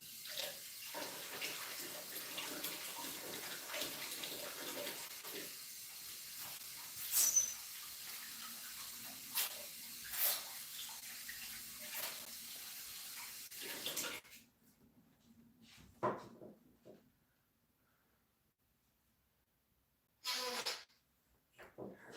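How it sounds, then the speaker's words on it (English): Hands being washed under a running kitchen tap, a steady broadband rush of water for about fourteen seconds with faint splashing, then near silence, a few small clatters and a brief final burst of water. "I'm gonna wash my hands"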